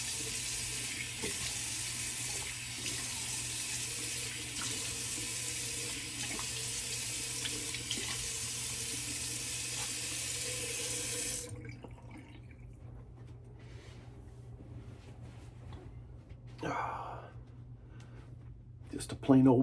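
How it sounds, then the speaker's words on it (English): Cold tap water runs in a steady loud rush for about ten seconds, then shuts off, leaving faint drips and small handling noises. "A super cold water rinse."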